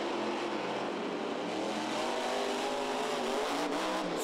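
Monster trucks Monster Energy and El Toro Loco race head to head at a Minneapolis stadium, a continuous loud roar of revving engines filling the arena with no pauses.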